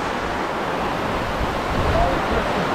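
Storm at sea heard from a drifting anchored boat: a steady, loud wash of surf and gusting wind noise across the whole clip, building slightly toward the end, with no talk.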